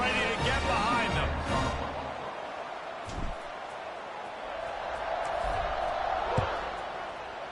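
A packed stadium crowd roars in College Football 26 ahead of a kickoff, a loud broad wash of cheering that swells at the start and then settles into a steady, distant rumble with a couple of thumps.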